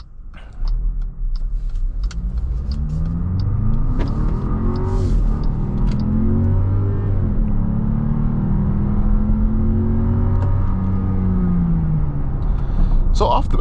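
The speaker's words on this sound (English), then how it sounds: "We'll pop it into sport mode and have a little look at this acceleration off the bat." A 2026 Jeep Grand Cherokee L Summit engine revs and accelerates hard in sport mode, pitch climbing through several gear changes, with a steady road rumble beneath.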